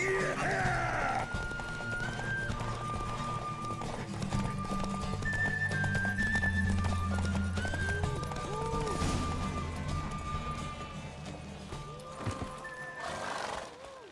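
A horse gallops in a race in The Witcher 3 video game, steady hoofbeats with neighs and whinnies over a musical score, ending in a burst of louder noise.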